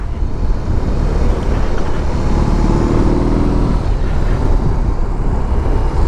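A 2021 BMW R18 motorcycle with an 1800 cc engine being ridden, giving a steady, loud engine drone mixed with heavy wind rush throughout, with no talking.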